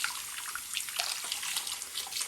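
Lukewarm tap water runs steadily into a sink while a curly wig is rinsed, a continuous near, bright hiss with no speech over it.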